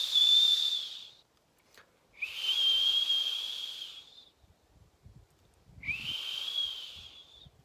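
A person whistles three long, thin, high-pitched notes imitating a bird's alarm call, each sustained for a second or two with pauses between, close and clear against quiet background rustles.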